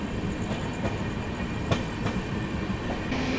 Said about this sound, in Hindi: इतनी जबरदस्त भाग रही थी गाड़ी।